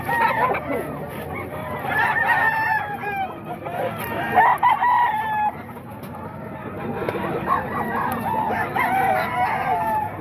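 Gamefowl roosters crowing at an open chicken market in Bocaue, Bulacan on a rainy day, several overlapping crows with clucking and honking geese nearby, under a busy crowd murmur and occasional voices.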